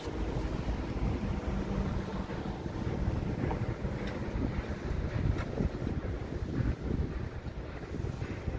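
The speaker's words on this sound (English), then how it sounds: "it's a little windy" Wind gusting outdoors, buffeting the microphone with a loud, close, uneven low rumble that swells and eases throughout, with no one speaking.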